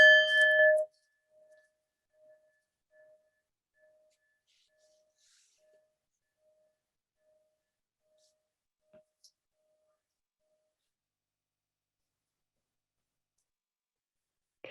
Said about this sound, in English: I'm going to ring the bell, and then you can open your eyes